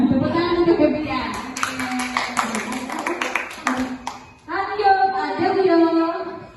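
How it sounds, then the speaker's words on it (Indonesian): A short burst of classroom clapping for a student at a junior high school in Merangin, brief crisp claps between stretches of a teacher speaking. "Tepuk tangan untuk Febrian."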